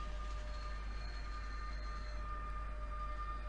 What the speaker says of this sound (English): You hear the brake squeals